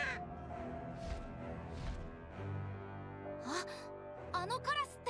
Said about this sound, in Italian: Ehi, quel corvo.